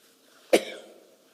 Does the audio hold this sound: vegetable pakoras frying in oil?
no